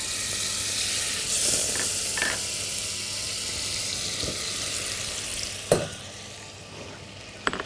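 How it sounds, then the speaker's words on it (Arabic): Butter and sugar cook into caramel in a pan, a steady soft sizzle and hiss running throughout, broken by a few scraping stirs and clinks of a utensil against the pan near the end. "أول حاجة هعملها هعمل كراميل بالزبدة والسكر"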